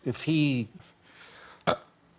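A man gives a short, sharp burp, with a second brief burst a moment later, close and fairly loud against quiet surroundings.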